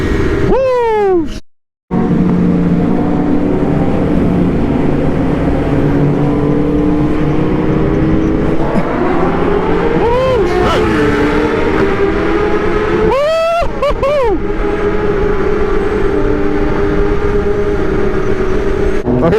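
Sport motorcycles, a BMW S1000RR among them, race past loudly in a series of rising and falling engine pulls, with whoops and shouting from nearby spectators.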